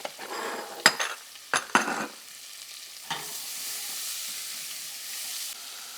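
Green onions, celery, red peppers, bay leaf and thyme sizzle in a pan with a steady frying hiss, broken early by a few sharp clinks and scrapes of a utensil stirring against the pan.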